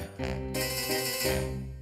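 A telephone ringing in a cartoon, a steady electronic ringtone with repeating tonal pulses, fairly faint and alone without speech.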